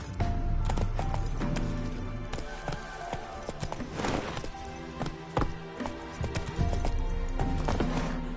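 Horse hooves galloping in The Witcher 3, a steady rapid clip-clop running through the whole stretch beneath layered game music and ambience, fairly loud and close.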